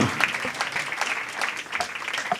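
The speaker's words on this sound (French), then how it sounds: "Quelques applaudissements pour terminer" Applause from an award ceremony audience, a steady wash of clapping hands lasting a couple of seconds at moderate loudness, with a faint voice mixed in.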